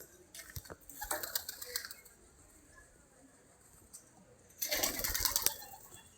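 Racing and pet pigeons in cages at midday, with two bursts of fluttering wingbeats and soft scuffling, faint and close, separated by a quiet stretch and under light background sound.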